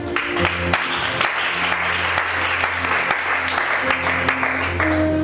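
Congregation applauding in unison at a church service with a prophet preaching, steady dense clapping that fills the whole stretch at close range.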